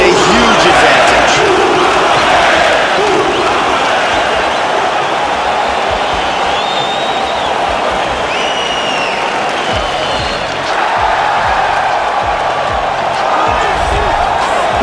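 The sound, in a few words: arena crowd cheering during fighter's walkout, UFC 3 video game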